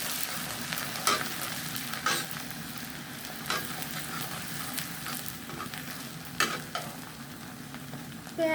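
Chopped onion and garlic sizzle steadily in hot oil in a frying pan, a continuous close crackling hiss with occasional stirring scrapes and taps.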